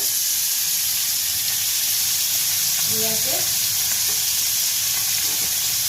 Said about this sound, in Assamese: মাছটো এখানে ফ্ৰাই হৈ থাকিব।